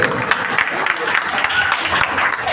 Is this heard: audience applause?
yes